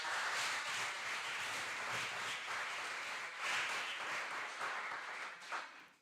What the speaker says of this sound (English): can you please give a warm applause to our dear colleagues?